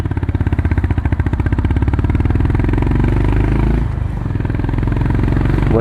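A Honda CB 350RS motorcycle engine and exhaust thump loudly up close, a steady rhythmic single-cylinder beat that rises as it revs, briefly dips, then picks up again.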